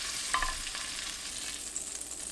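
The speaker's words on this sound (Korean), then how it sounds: "팬을 달군 뒤 대패 삼겹살 넣고 센 불로 노릇하게 볶아주세요." Thin-sliced pork belly frying in a preheated pan over high heat, a quiet steady sizzle with faint crackles and light scraping as it is stirred.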